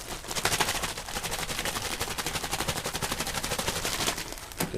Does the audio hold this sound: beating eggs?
yes